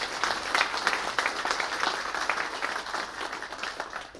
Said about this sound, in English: What about a round of applause for Sue?